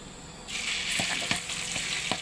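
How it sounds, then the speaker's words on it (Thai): Curry paste for nam prik ong sizzles loudly in hot oil while being stir-fried, the frying hiss rising suddenly and carrying spatula scrapes and taps up close. "ผัดพริกแกงนะคะ ผัดไปให้ค่ะผัด ผัดจนมันหอมนะคะ"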